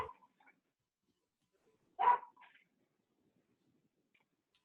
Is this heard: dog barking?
yes